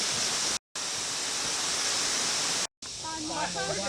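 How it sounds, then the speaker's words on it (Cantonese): Yellow Waterfall in Tai Mo Shan Country Park, on a hillside trail: a steady, loud broadband rush of falling water fills the whole stretch, broken by two brief cuts, with faint voices near the end. "呢個就係黃瀑布啦"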